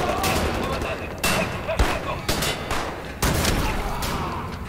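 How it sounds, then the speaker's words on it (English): A shotgun firing in the video game Wolfenstein, with several loud booming blasts about a second apart over a dense, noisy battle background. "Shotgun time."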